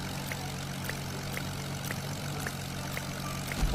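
Propeller airplane engine droning steadily in Roblox, a constant low hum with faint rhythmic clicks, heard alone without talk.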